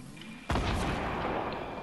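A grenade blast in Fortnite hits as one sudden, loud boom, then a sustained rumbling tail, with no voices.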